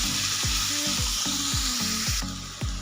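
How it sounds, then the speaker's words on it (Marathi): Finely chopped onions fry in hot oil with a loud, steady close sizzle, while a spoon stirs the pan in regular scraping strokes about every half second. "साईजचे 2 कांदे बारीक कट करून घेतलेले आहेत, तेलामध्ये तळून घ्यायचे आहेत।"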